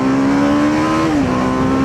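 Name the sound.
TVS Apache RR310 motorcycle accelerating in sports mode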